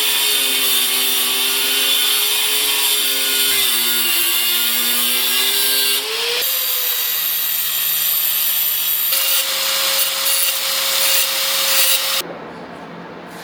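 Power cutting tool cutting off the end of a bolt during suspension work on a Mercedes-Benz: a continuous loud abrasive whine with shifting pitch, heard close for most of the time before cutting off abruptly near the end.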